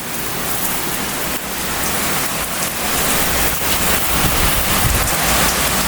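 Torrential rain from a violent late-August thunderstorm in Bordeaux pours down in a loud, unbroken roar, with gusty wind pushing through and no voices heard.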